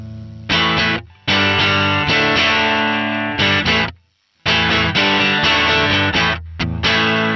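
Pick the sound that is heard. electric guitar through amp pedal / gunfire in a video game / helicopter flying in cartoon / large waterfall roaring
electric guitar through amp pedal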